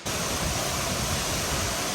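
Heavy water flow pours over Fall Creek Falls in Fall Creek Falls State Park after three days of rain, a dense, loud, continuous roar with no break, close by and alone without any voices.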